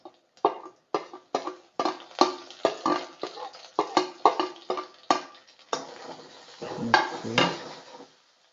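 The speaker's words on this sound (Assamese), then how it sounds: "কণ্টিনিউ লৰাই থাকিব অলপ ব্ৰাউন হোৱালৈকে" A utensil stirs chicken frying in a pan for an Assamese-style chicken fry, browning as it cooks. Close, rhythmic scrapes and clatters come roughly twice a second, then give way to a denser, steady scraping sizzle.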